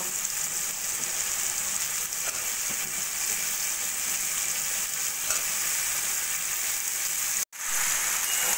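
Pumpkin, potato, ridge gourd, okra and carrot hit tomato and spices in a hot pan, giving a steady close sizzle that cuts out abruptly near the end before resuming.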